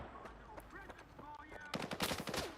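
Gunfire in S.T.A.L.K.E.R. 2 during a fight with a bandit, with a rapid burst of automatic shots near the end, preceded by voices talking and scattered game sounds.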